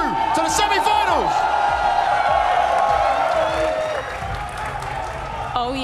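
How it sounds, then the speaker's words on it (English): An esports arena crowd at the BLAST World Final 2024 in Counter-Strike cheers and applauds loudly for Vitality, a dense roar with whoops under a commentator's excited voice. "Make some noise for Vitality as they cruise on through to the semi-finals"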